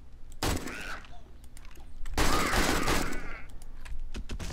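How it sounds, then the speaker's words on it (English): Shotgun turrets firing in the 7 Days to Die video game, two loud bursts of blasts with scattered sharper shots between them, close and dominant with no talk. "Lots of shotgun turrets here."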